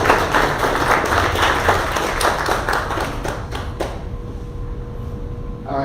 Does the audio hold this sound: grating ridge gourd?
no